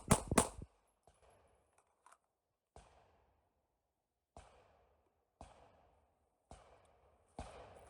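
A CZ P01 Omega or Glock 19M pistol fired in a timed shooting drill that includes a reload: a quick opening double shot, then single sharp reports spaced about a second apart, with small metallic handling clicks in the gaps.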